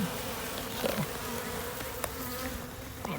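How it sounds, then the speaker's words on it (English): Honeybees buzz steadily around an open hive during an inspection, a dense close hum with a few louder individual bees passing near. "There is a lot of smaller bees running around in here"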